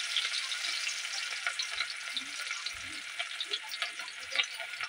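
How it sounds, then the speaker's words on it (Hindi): Chopped garlic, ginger and green chilli sizzle steadily in hot oil, with small crackles and pops over a continuous frying hiss as the base of a restaurant-style chicken dish. "चॉप किया हुआ लहसुन, चॉप किया हुआ अदरक और चॉप किया हुआ हरी मिर्च को डाल देंगे। इसे हम फ्राई कर लेंगे।"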